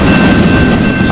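A freight train of tank cars rolls past nearby, a loud continuous rumble and rattle of wheels on rails filling the short stretch without a break.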